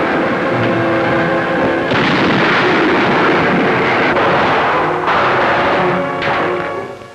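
Battlefield gunfire and shell fire at Monte Cassino in 1944, Italy, with automatic weapons firing on German Spandau strong points cut into solid rock; a loud, dense, continuous din with heavy bursts, no voices.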